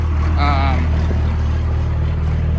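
A second-generation Dodge Ram crew cab pickup engine, running smoky at idle, gives a loud, steady low rumble filling the whole stretch, with a brief voice over it early on.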